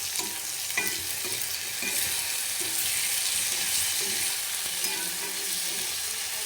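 Curd being mixed into frying chicken in a hot pan makes a continuous sizzle, with soft rhythmic stirring knocks throughout.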